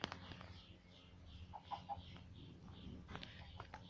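Soft clucking from a Minecraft chicken, a few short calls over steady background music and low rumble.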